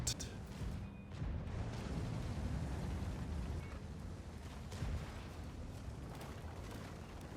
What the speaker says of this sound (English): The shell hit the target. Our track is destroyed.